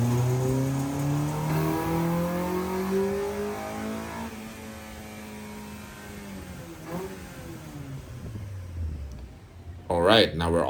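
A car engine revs on a dyno during an intake test, its pitch sweeping up and then falling in long smooth arcs, with a short sharp burst near the end and people talking over it.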